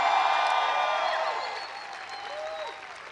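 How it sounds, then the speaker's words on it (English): A crowd claps at a 2016 New York State Nurses Union rally for Bernie Sanders in the South Bronx, giving a dense, sustained burst of applause that slowly thins and fades over a few seconds. "So give yourself a round of applause for all the work that you've done."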